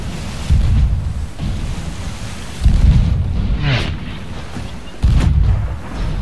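Cannons fire from a pirate ship in Sea of Thieves, three heavy, deep booms about every two and a half seconds, each followed by a rumbling tail over steady ocean noise.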